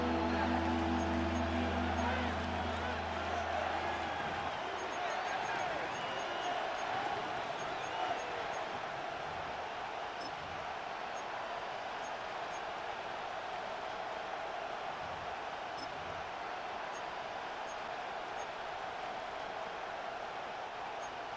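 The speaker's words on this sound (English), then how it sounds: "The crowd cranking it up another notch before 3rd and long." A football stadium crowd before a third down in a Jets conference championship game sends up a steady, loud roar that holds throughout, with low rumbling at the start and distant voices in the mass of noise.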